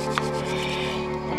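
Wooden spindle spun in a bushcraft hand drill against a hearth board at a camp, giving a continuous dry rubbing rasp with steady rhythmic friction, close and moderately loud, with no talking.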